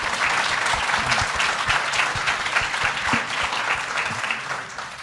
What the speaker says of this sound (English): Can we give a quick round of applause for all the questions and the knowledge shared?